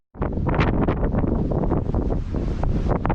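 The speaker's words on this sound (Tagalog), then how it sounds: "Oh my goodness, so windy." Strong wind blows outdoors in a front yard, buffeting the microphone with loud, gusty rumbling and roaring that carries on continuously from start to finish.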